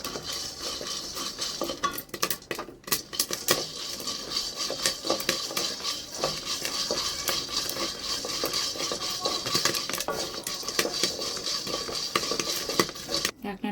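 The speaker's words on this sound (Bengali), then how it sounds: "একটুখানি নাড়া দিয়ে দিই" Popcorn kernels in a covered pan being stirred with a utensil, busy metallic scraping and clattering against the pan over a steady background hiss, continuous and close.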